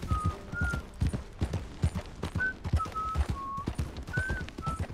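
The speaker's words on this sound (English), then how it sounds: "camp with somebody whistling." Short whistled notes from a person at a camp come and go over a steady clip-clop of hooves, with a horse nearby and a busy outdoor bustle underneath, in the video game Red Dead Redemption 2.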